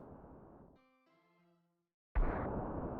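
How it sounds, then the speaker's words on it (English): Retro Breath of Fire video game effects in a Dark Dragons attack: a burst of harsh noise-like blast, a brief tonal chime, silence, then another loud sudden explosion that rumbles on. "That was a lot of explosions for a small boat."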